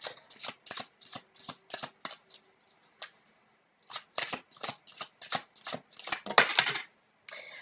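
Tarot cards are shuffled by hand in quick, crisp bursts of riffling and slapping, with short pauses between rounds, close and fairly quiet with no talk.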